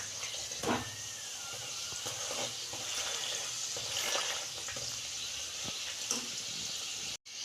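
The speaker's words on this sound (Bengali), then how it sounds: "এইভাবে সব কচুরিগুলো ভেজে নেব" Pea kachori deep-frying in hot oil in a kadai, a continuous soft sizzle and bubbling with occasional spoon stirs and clinks, fairly quiet and uninterrupted by talk.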